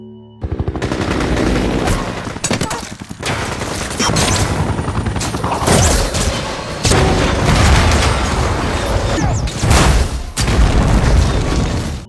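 Helicopter gunfire during a rooftop riot in the film No Escape, heavy bursts of shots and booming blasts over dense continuous noise, loud and sustained throughout.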